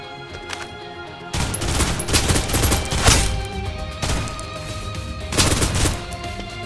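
Rapid automatic gunfire in the shooter game Snowbreak: Containment Zone, starting abruptly and continuing as a dense, loud fusillade with sharper bursts.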